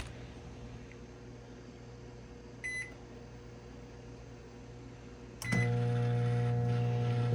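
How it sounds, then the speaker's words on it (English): A microwave oven cooking spinach hums steadily with a low fan drone, a brief beep partway through, then a louder buzzing hum as the magnetron kicks in. "Let's get this in the microwave."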